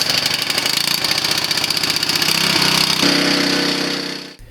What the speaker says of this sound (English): The petrol pump is as noisy as a chainsaw at full throttle